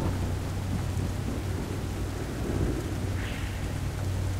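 Thunderstorm ambience from the horror video game Devour: steady rain hiss with a low continuous rumble of thunder, fairly loud and unbroken for the whole stretch, no voices over it.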